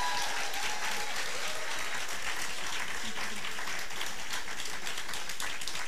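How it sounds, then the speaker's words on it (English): A lecture hall audience applauds students with sustained clapping and scattered individual claps, while faint voices murmur underneath. "Ladies and gentlemen, a round of applause."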